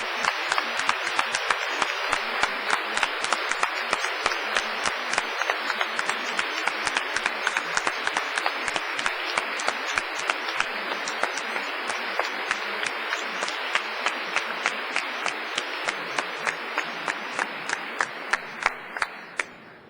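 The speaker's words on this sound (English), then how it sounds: "applause." A large audience gives sustained applause at a Cardiff University graduation ceremony for dentistry, nursing and midwifery graduates, a dense even patter of many hands lasting throughout and thinning slightly at the end, with no voices over it.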